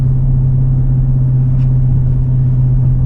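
A car exhaust with 3-inch axle-back pipes, no resonators and an aftermarket air intake gives a loud, close, steady low droning rumble that holds evenly throughout.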